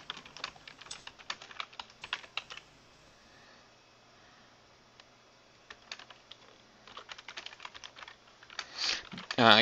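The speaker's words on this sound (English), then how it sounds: "Y'all excuse my typing" Rapid typing on a computer keyboard during an online strategy game session, with bursts of fast, close clicking keystrokes, a quiet pause in the middle, then another flurry of keys ending in a louder clatter.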